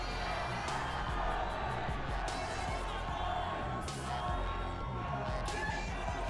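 Fans cheer and whoop at the 2019 Arnold Classic bodybuilding contest, a busy crowd roar with scattered shouts and bursts of applause throughout, fairly loud and steady, with an announcer's voice mixed in.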